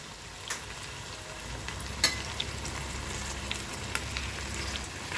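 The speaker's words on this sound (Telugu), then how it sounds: "ఆనియన్స్ ఇలా వేగాక అల్లం వెల్లుల్లి పేస్ట్ వేసుకోవాలి" Onions with ginger garlic paste frying in a pan for a curry, a continuous soft crackling sizzle with a few sharp utensil taps, nobody speaking.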